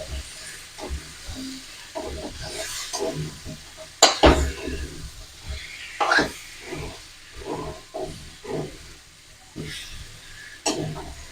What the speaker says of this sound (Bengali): ভালো করে আলুগুলোকে মশলার সাথে মিশিয়ে নেব